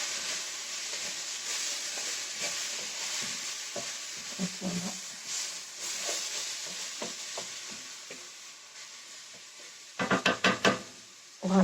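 Chicken and seafood paella ingredients stirred in a hot pan, a constant close sizzle with scraping stir strokes, ending in a quick burst of utensil clinks against the pan.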